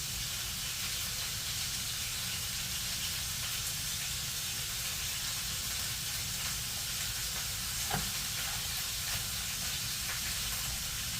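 Shrimp sautéing in a pan give off a steady, even sizzle and hiss that holds unbroken throughout, with one brief clink partway through.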